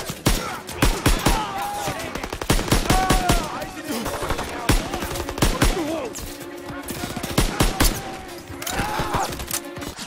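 Dense, rapid gunfire in the Call of Duty WW2 campaign tank mission, with bursts of machine-gun fire and single shots going on steadily for the whole stretch, while a voice shouts over the battle.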